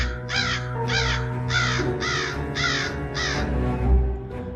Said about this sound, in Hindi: जब वो नीचे भागने की कोशिश करते हैं तब एक काला कौवा आके उन्हें बहुत डराता है।